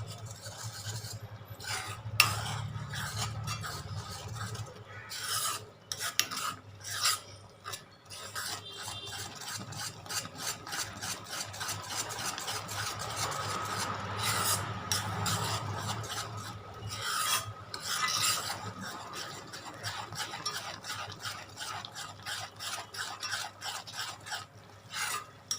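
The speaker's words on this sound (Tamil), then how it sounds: "இதை நல்லா நீங்கள் மிக்ஸ் பண்ணிகிட்டே வந்தீங்கன்னா உங்களுக்கு ஒரு நல்ல ஒரு சாக்லேட்டு சிரப் கிடைக்கும்." Chocolate syrup stirred in a pan for an eggless apple chocolate cake, a quiet repetitive rasping scrape of the spoon against the pan bottom in steady strokes, close and alone.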